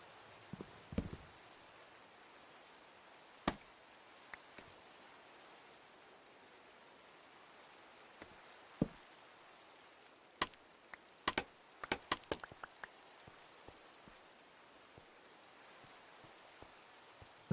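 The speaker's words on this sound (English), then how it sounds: "And of course it's raining" Minecraft rain falling in a steady, soft hiss, faint and fairly distant, broken by scattered sharp clicks and ticks.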